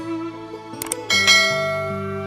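A bell rings out with long, resonant metallic tones, struck more than once and decaying slowly, loud and alone, accompanying a children's fairy tale about a king who hangs a bell anyone suffering injustice may pull.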